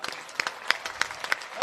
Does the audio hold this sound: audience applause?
yes